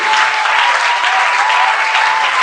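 A congregation at a church vigil bursting into loud, sustained applause and acclaim, a dense continuous roar of clapping close at hand with no pauses.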